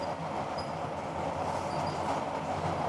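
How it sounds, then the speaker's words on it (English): A Sheffield Supertram rolls along its rails near Attercliffe with a steady broadband rumble and a faint high squeal. The noise stays continuous and fairly close, with no talking. "This tram sounds a bit weird."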